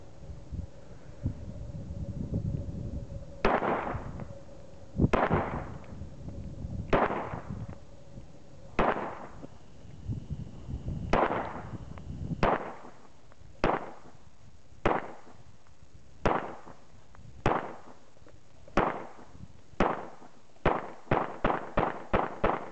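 Sharp 9mm Glock 17 pistol shots ring out at a pumpkin outdoors, spaced single reports at first, then steadier, and a quick rapid string at the end, each crack trailing a short echo.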